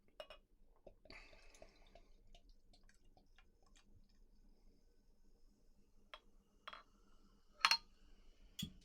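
Quiet liquid sounds of dark Dubbel home-brewed beer trickle and splash from a bottle into a glass, with scattered clinks and drips and a brighter burst of glassy tapping near the end.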